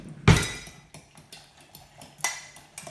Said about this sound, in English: we'll grab a fork just to mix our solution together